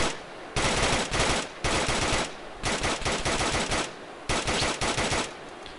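Assault rifle fire in Arma 3 comes as loud, close bursts of rapid automatic shots, four or five sustained strings separated by brief pauses.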